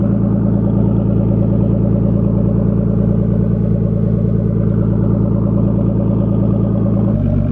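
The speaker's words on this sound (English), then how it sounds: "Check the idling, it's been running for about 5 minutes now." Nissan R32 Skyline with a turbocharged engine and a Tomei aftermarket exhaust idles steadily and close by, a loud, even low rumble with a fast regular pulse, shifting slightly in pitch near the end; no talking.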